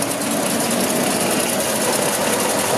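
A 1952 Ford Panel van with a 6-volt system and carburetor idles at very low revs, giving a loud, steady, even engine rumble close by.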